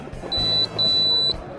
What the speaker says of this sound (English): Beep, beep.